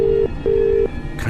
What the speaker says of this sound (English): it continued ringing, but a strange ring, like the ones you hear overseas